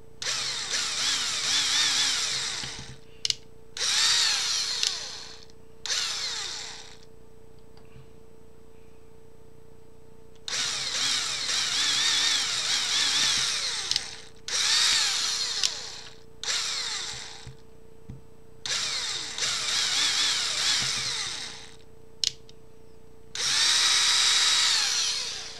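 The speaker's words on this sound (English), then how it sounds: "So then just gotta drill the other holes." A power drill bores holes in a plastic fightstick case, with about eight whining bursts of roughly one to four seconds each separated by short pauses, loud and close.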